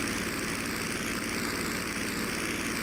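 A Curtiss P-40E Warhawk's piston engine drones at cruise power in flight, a steady, continuous broadband roar with a low propeller throb that holds evenly throughout.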